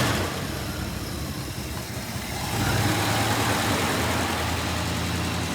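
A 1967 Plymouth Fury III engine, first started after 15 years, idles roughly, then revs up into a louder, sustained growl about halfway through, close by and without talking.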